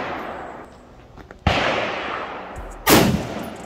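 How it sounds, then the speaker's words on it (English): Two loud, sharp unsuppressed shots from a .243 Winchester rifle firing 90-grain soft-point rounds at level 4 body armor about 20 yards away, each a close blast with a short decaying tail, the second louder. "We gonna hit this with the 243 Winchester."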